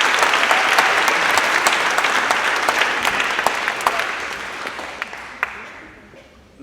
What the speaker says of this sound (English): Stand for a minute and listen to the applause